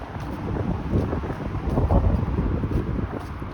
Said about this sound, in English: It's kind of sunny and cloudy at the same time, but the wind is not good.